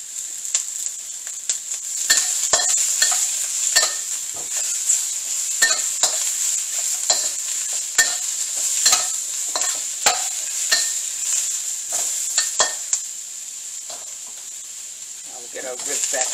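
Peppers stir-frying in a hot pan of ribs in garlic sauce: steady loud sizzle throughout with repeated scraping stir strokes, close and continuous, fading slightly near the end.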